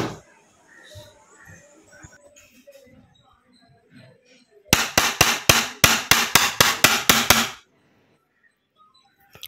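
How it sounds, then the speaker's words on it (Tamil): An iron hammer strikes mobile phone screen protector glass in a rapid burst of about a dozen sharp, loud knocks, preceded by quiet handling clicks and soft talking. "இது ஒரு இரும்பு சுத்தியல் தான் இது."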